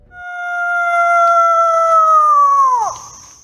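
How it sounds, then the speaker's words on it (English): A single long, clear howl in a forest, attributed to coyotes, holds a steady pitch and then slides sharply downward at the end, loud and alone. "The coyotes respond. We can hear their howls echoing back from all around the forest"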